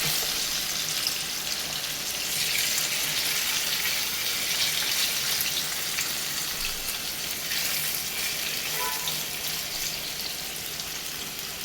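Steady, loud sizzling of chicken pieces frying in green masala made with fresh coriander and spices over a high flame, a continuous hiss with faint crackles throughout and no talking.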